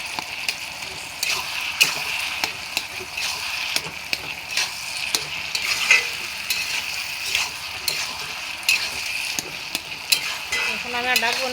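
Bottle gourd being stirred with turmeric in a pan while it simmers, a steady wet sizzle broken by repeated scraping and clacking of the spoon against the metal, close and fairly loud, no voices.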